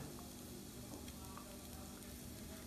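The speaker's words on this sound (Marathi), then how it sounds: "आता आपण यात 1 वाटी गूळ टाकत आहोत।" Grated coconut frying in ghee as broken jaggery pieces go in for modak filling, giving a soft, continuous low sizzle with faint stirring scrapes, fairly quiet and close.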